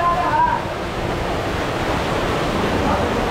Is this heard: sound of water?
yes